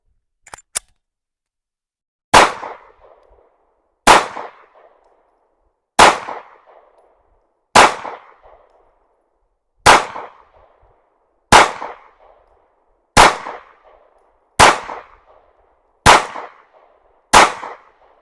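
Anderson Kiger 9C Pro pistol firing Grind Hard 115-grain 9mm ammunition on an outdoor range: ten sharp, loud reports at a steady pace about two seconds apart, each trailing off in a brief echo, preceded by a couple of small clicks.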